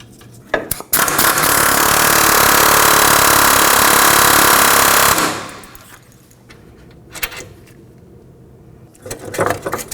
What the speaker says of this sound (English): I'm going to be using my air hammer with my socket directly on each one of the bolts